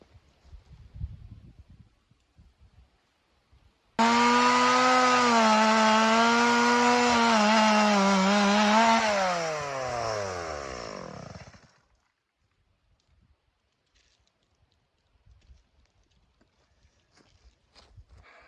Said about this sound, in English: it's really difficult for me to cut a straight line with a chainsaw